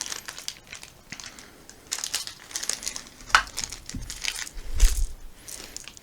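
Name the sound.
handling plastic game cubes from an unboxed bag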